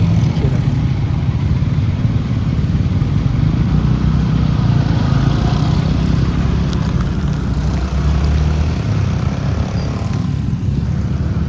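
Small motorbikes ride along a road toward China on a Vietnam loop trip, a loud continuous low engine drone with wind rumble filling the whole stretch, close and steady, no talking.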